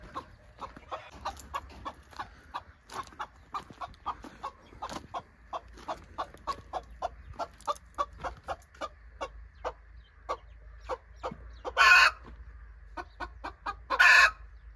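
A farmyard hen that will not settle on her hatching eggs clucks in a steady, rapid string of short, close pulses, with two louder, longer squawks near the end.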